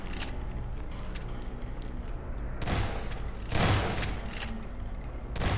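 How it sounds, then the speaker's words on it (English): Gunfire in the Garry's Mod horror map Necrophobia, a steady rattle of rapid shots and game noise with several louder bursts, loud and close. "we have to shoot low because of little bloody head crabs"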